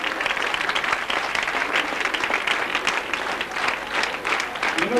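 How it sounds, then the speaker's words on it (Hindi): Applause from an audience at an institution's anniversary gathering, welcoming the principal: dense, steady clapping from many hands throughout, with some voices mixed in. "साहब के आने और मेरे जाने के लिए खूब तालियां"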